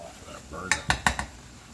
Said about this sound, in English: Now give it a good stir, because I want to cook that flour, get it kind of golden